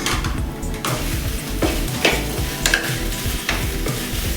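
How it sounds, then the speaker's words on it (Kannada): Chopped okra fries in a hot pan with a dense, steady sizzle, broken by repeated scraping stirs up close, with no talking. "ಬಾಣಲಿ ಬಿಸಿ ಆಗಿದೆ ಇವಾಗ ಹೆಚ್ಚಿಟ್ಕೊಂಡಿರೋಂಥ ಬೆಂಡೆಕಾಯಿ ಹಾಕೋತಾ ಇದ್ದೀನಿ"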